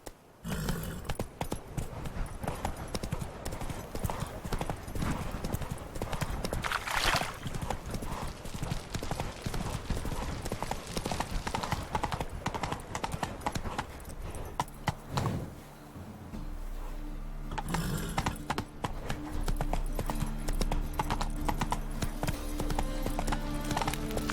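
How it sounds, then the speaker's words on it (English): Horse hooves clip-clopping steadily in the Witcher 3 video game, a continuous rapid rhythm of hoof beats close up over game ambience, later joined by a low droning tone. "Whoa there, Roach."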